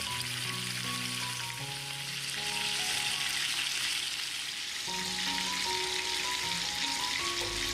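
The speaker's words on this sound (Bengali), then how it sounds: "চিংড়ি মাছের এক সাইডটা ভাজা হয়ে গেলে আমি এটাকে অন্য দিকে উল্টে দেব" Shrimp frying in oil make a steady, even sizzle throughout, playing under background music.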